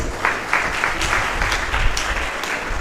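A crowd at a university inaugural lecture claps steadily, a loud, continuous wash of many hands with faint rhythmic pulses, close and with no speech.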